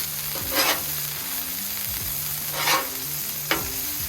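Smash burgers sizzle steadily on a Monument griddle, with three sharp scraping bursts as a spatula slides under the patties and flips them, all close and without talk.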